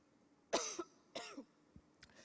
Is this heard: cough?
yes